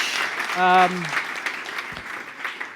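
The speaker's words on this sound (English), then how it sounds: "Please, a round of applause." An audience claps to welcome a speaker to the stage at a web technology talk, steady applause with a brief tonal voice-like cry rising above it early on.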